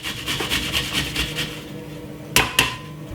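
Garlic rubbed against a grater in quick, rhythmic rasping strokes, close and moderately loud, ending with two sharp knocks.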